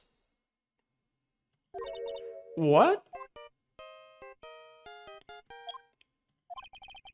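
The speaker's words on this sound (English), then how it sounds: "I know that song your phone plays when it rains." A bright synthetic melody from a phone ringtone in Phoenix Wright: Ace Attorney, heard as a run of clean, evenly spaced notes after a short spoken exclamation.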